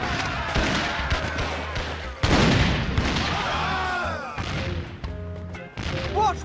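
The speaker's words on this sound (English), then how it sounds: "Watch where you're shooting!" Gunfire and booms in the pirate adventure game Curse of Monkey Island, with loud bursts and thuds scattered through the clip, mixed with cartoonish game voices and music.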